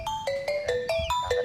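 A phone rings with an incoming call, a bright repeating electronic melody of short tonal notes played steadily and close, with no voices over it.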